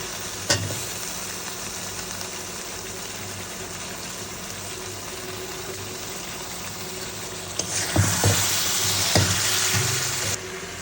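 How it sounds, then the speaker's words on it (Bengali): Pumpkin and pangas fish simmering in a pan with gravy, a continuous close sizzle and bubbling that swells louder near the end with a few stirring clatters, no voices. "এই যে মিষ্টি কুমড়া দিয়ে পাঙ্গাস মাছ দিয়ে রান্না করতেছি"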